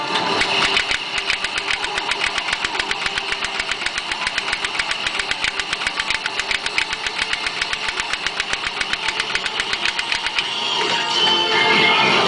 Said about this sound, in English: here's to test the machine gun